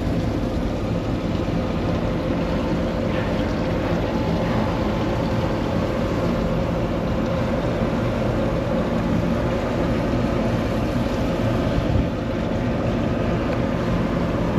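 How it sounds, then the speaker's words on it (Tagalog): Tohatsu outboard engine, model 3B9, on a rescue boat running during a weekly test, a steady, loud, close drone that holds unchanged throughout. "Tohatsu to guys, Tohatsu outboard engine."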